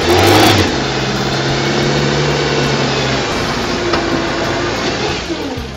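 A car engine revs hard as more throttle is applied, a loud, sustained roar that holds steady and close for several seconds with no voices.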